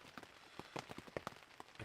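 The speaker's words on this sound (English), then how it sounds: "And as you can hear, it's raining." Rain patters on a Tentipi Olivin 2 CP tent in the morning, with soft, uneven drops tapping close by on the fabric, faint and steady, with no talking.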